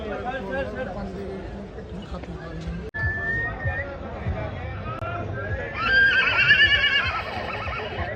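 Marwari horse foals about four and a half months old are heard, one giving a loud shrill whinny near the end, while people chatter nearby throughout.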